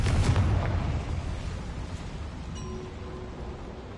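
A Confringo blasting spell goes off in Hogwarts Legacy inside a castle boiler room: one close, loud booming burst that thunders and then fades into a long, low rumbling tail.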